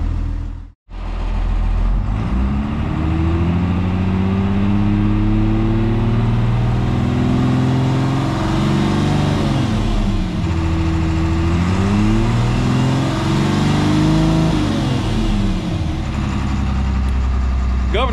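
An International DT360 diesel engine in a school bus toy hauler runs loudly up close, a steady rumbling idle with several slow rev rises and falls over the span, with occasional talk underneath.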